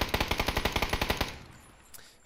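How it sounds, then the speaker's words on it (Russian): Gunfire in the battle royale game PUBG: a rapid burst of about fifteen evenly spaced, loud automatic shots fired over just over a second, then fading into a quiet tail with a faint click near the end. "Очень хорошая стрельба."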